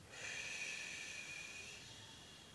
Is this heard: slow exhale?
yes